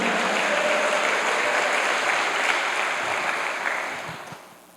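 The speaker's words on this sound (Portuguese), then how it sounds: "uma salva de palmas para o Senhor" A church congregation at a Baptist communion service applauds in a thick, continuous wash of clapping that stays loud and steady before tapering off near the end.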